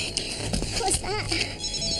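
A telephone rings in a room during a TV crime drama scene, its electronic warbling tones steady across the short moment, with faint background noise and some voices in the background.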